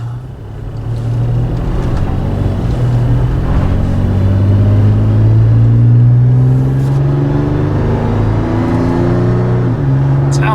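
A Toyota FJ Cruiser fitted with a MagnaFlow exhaust drives on a test run, its engine rumbling steadily up through the gears with rising and falling pitch, loud and close throughout.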